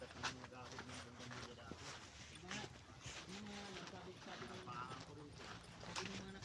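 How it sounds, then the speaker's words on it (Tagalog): Horse hooves clip-clopping on a rural road among trees, faint and steady beneath close conversation and background noise. "May kabayo, ayun oh."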